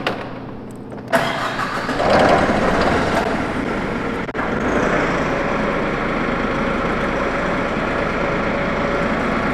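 A brand-new 2021 Toyota diesel pneumatic forklift turns over with a brief crank, fires up with a loud burst, and settles into a steady, close, rumbling idle.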